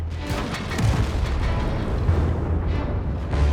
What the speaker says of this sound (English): The Type 4 is a tough nut to crack from the front, but premium shells sort it out quickly enough.